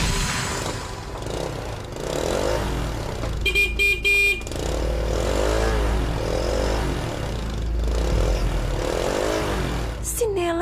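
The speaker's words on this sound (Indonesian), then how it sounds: "Si Nela beli motor baru." A newly bought motorbike arriving, its engine droning steadily beneath people talking and chattering, with short horn toots partway through and again near the end.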